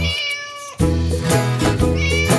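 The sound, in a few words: cat meowing in children's song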